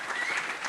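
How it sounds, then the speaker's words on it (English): Short burst of audience applause welcoming Carel, the presenter of a Moneybadger talk, steady dense clapping throughout with no voices. "Round of applause for Carel."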